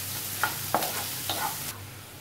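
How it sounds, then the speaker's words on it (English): Chopped onion frying in a pan for duck egg curry, a soft steady sizzle punctuated by three or four quick stirring scrapes close by, with no voices. "Fry the chopped onion. Fry until golden brown."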